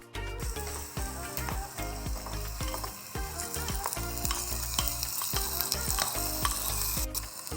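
Chopped tomatoes sizzle and fry steadily in a hot pan for vegetable biryani, a loud continuous crackle with occasional stirring scrapes throughout.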